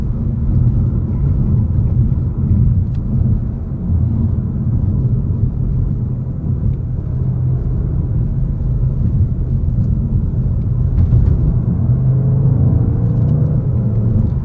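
Škoda Octavia RS 2.0 TSI 245 hp on the move, heard from inside as a steady, loud low engine and road rumble that holds evenly throughout with no talk.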